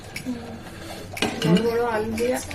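A spoon scrapes and clinks against a pot while mutton curry is stirred, close metallic knocks under a few words of talk.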